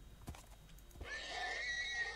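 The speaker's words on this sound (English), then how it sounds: "Let's kill this horse." A horse in Minecraft neighs and whinnies faintly after a couple of soft impact hits as it is attacked. The sound is quiet and brief.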